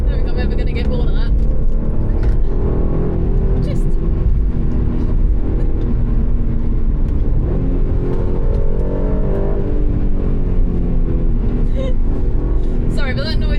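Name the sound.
Aston Martin DB12 engine revving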